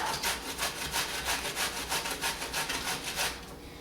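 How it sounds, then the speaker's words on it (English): A hand grater scrapes rhythmically as food is grated for a frittata, quick regular rasping strokes at close range, fairly quiet and with no talking. "I'm going to be grating it. Just a simple grate."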